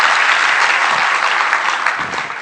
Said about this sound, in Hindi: तालियां बजाइए इनके लिए प्लीज